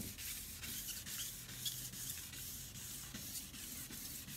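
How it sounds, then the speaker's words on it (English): Car paintwork sanded by hand to knock back the shine, a steady close scratching rub with rhythmic strokes, quiet and alone. "it won't be long before I've sanded it dry"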